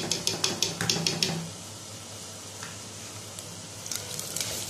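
Onions frying in a pan with ginger-garlic paste for a bell pepper keema, a faint steady sizzle following a few sharp stirring clinks at the start, with light scrapes near the end.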